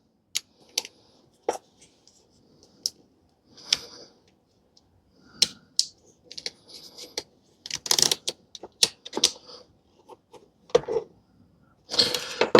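Sharp clicks and snips ring out unevenly and close by as wire is cut on a Husqvarna 150BT backpack blower, scattered across quiet stretches with handling rustles between.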